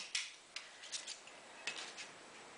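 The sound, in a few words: carpet cutter cutting out a paper window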